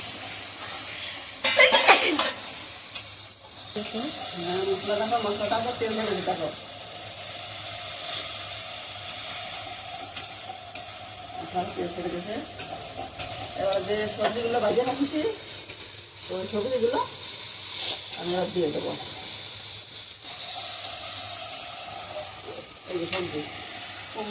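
Pumpkin and soybean frying with salt, turmeric and garam masala in a pan, giving a continuous hissing sizzle with occasional stirring scrapes, while a voice talks intermittently over the cooking.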